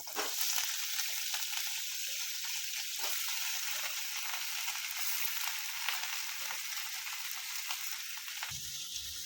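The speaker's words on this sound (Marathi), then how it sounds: "तेल पण गरम झालेलं आहे आता याला तळून घेऊ" Steady, loud sizzling of shrimp frying in hot oil, a continuous crackling hiss with no talking.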